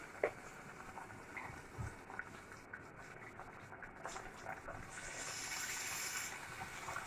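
Water pours into a pot of monggo (mung beans) cooking with sweet potato leaves, a soft gushing fill that swells in the last few seconds over quiet background noise.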